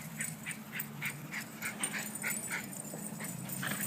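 A rescue dog whimpering repeatedly during play, a series of high, thin whines in a steady pattern, faint and close, with no talking.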